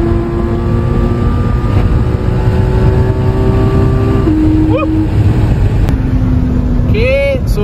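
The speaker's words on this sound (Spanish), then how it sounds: "¡Qué sonido el de este carro! ¡Qué sonido!" Porsche 718 GT4 sports car engine during a street race on damp pavement, a loud sustained drone whose pitch holds and then steps down as gears change, with a rising rev sweep near the end, under heavy wind noise.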